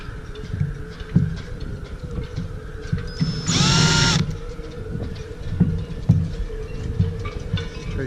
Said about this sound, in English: I'm going to just drill a little bit of pilot holes on each of these and then remove it